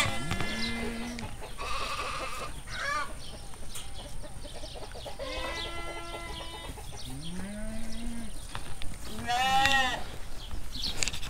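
Sheep on a farm bleat in several loud, wavering calls close by, with other animals and faint voices in the background.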